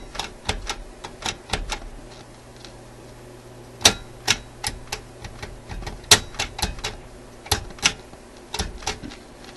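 Push buttons on an antique Graetz Polka 1113E German radio click and clack sharply, a dozen or so irregular mechanical clicks close up in a quiet room.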